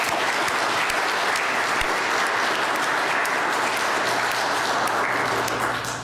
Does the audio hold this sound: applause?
yes